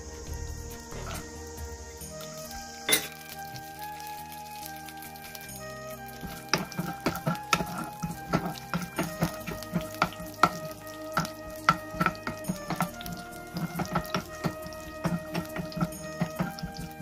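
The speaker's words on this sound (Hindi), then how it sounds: "उसके बाद जो घी गर्म हो चुका है तो इसमें ऐड करूँगी मैं थोड़ा ड्राई फ्रूट्स।" Dry fruits roast in hot ghee in a kadhai for apple halwa: a steady soft sizzle and crackle, with frequent close spoon scrapes and taps as they are stirred, and no talking.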